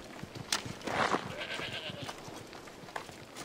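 Goats bleating a few times in Assassin's Creed Odyssey over a low game-like background, with a soft rustle in between; no talking.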